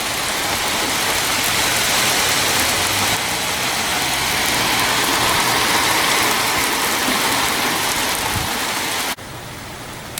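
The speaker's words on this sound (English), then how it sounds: "you obviously can see with the car and the rain blowing through it" Heavy thunderstorm rain pours and blows steadily past a parked car and van overhang, a dense, loud hiss of drops drumming on surfaces throughout, dropping briefly quieter near the end.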